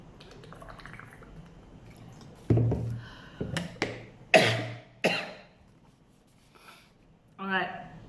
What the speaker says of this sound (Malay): Sorry, tiba-tiba sampai batuk.